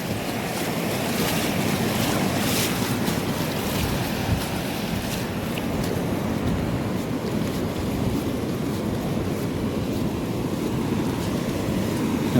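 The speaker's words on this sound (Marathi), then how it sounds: "ह्या कातळावरचं सगळं पाणी येतं खाली आणि डायरेक्ट ह्या व्हाळात" Floodwater after a Konkan cloudburst surges down a rocky stream toward the sea, producing a loud, unbroken roar of rushing water mixed with wind buffeting, constant throughout, with no voices.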